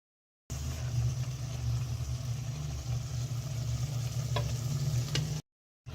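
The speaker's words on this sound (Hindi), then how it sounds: "अब आपने हल्के हाथों से चम्मच चलाना है, बिल्कुल मेरी तरह।" A spoon gently turns boiled eggs through a sizzling egg curry masala in a karahi, giving a steady close frying hiss with a low hum beneath and a couple of faint clicks of the spoon.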